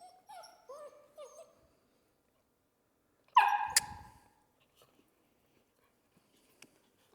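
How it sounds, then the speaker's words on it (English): A young female puppy gives a few soft, thin barks early on, then one louder yelping bark after a pause, followed by near silence with a faint click. "The next couple barks are weak"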